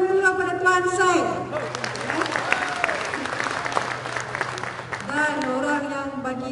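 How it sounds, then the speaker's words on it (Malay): An audience at a company anniversary event applauds for Tuan Syed, a dense burst of clapping in the middle, with a person speaking into a microphone before and after it. "bagi tepukan dulu pada Tuan Syed"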